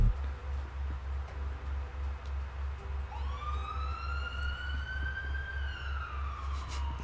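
A police siren effect from a soundboard starts partway through as a single rising wail that climbs and then holds, over a steady rhythmic low pulsing background.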